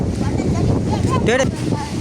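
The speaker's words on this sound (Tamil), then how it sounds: "நல்லா காற்று அடிக்குதுண்டா." Strong wind blowing outdoors on the coast at Keerimalai, Sri Lanka, a steady buffeting roar across the microphone, with a brief bird-like whistle or voice in the middle.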